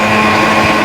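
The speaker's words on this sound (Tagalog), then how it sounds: "Ibe-blender na po." A blender whirs steadily, blending fresh mango from Marawi for street-food mango sticky rice, a continuous loud motor drone with no pauses and no voices.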